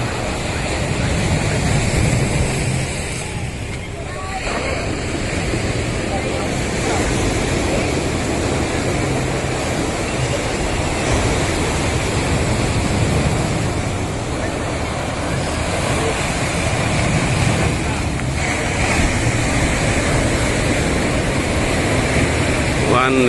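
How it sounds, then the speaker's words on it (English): Bay of Bengal surf pounding the shore at Pondicherry, a steady loud wash of breaking waves with gusty wind buffeting the microphone throughout. "The Bay of Bengal washing the shores of Pondicherry."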